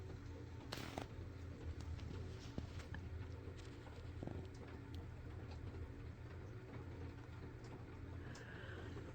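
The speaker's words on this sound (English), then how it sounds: "Can you hear the rain on my metal roof?" Rain patters on a metal roof, a faint, quiet, continuous rattling wash with occasional slightly louder taps, heard from indoors with no talking.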